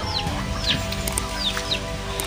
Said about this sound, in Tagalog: Mga alaga na yung manok dito